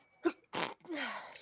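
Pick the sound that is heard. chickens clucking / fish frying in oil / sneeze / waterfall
sneeze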